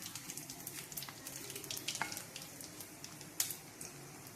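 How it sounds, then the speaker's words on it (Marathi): Whole spices and onion frying in hot oil for a dried prawn curry, a steady close sizzle with small crackles and one sharper pop, heard alone without talk. "आता याच्यामध्ये आपण खडे मसाले टाकू आणि त्याबरोबर लगेच कांदा टाकून घेऊ।"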